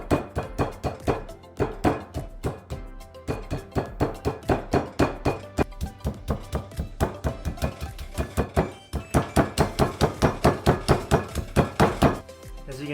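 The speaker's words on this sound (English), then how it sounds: "We have a meat tenderizer hammer here, and we're just gonna hit it a couple times" Repeated heavy thuds from a meat mallet striking chicken breast on a board, a steady series of close, dull blows with short pauses.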